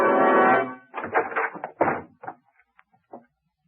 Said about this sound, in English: And then, in a quick movement, they rushed the door to Frank Hadley.